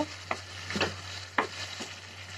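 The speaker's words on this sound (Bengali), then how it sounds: "এখন আমি এটা নেড়ে দিচ্ছি।" Chicken and potato curry stirred in a pan, a few distinct scraping strokes spaced about half a second apart over a low steady hum, moderately close with no talking.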